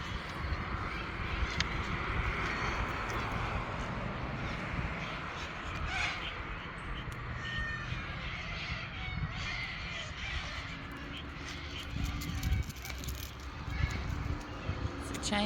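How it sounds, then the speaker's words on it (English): Crows caw repeatedly from around a tree along an outdoor walking route, moderately distant, over a steady wash of outdoor background noise. "listen to the birds"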